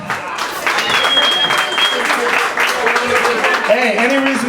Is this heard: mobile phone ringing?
no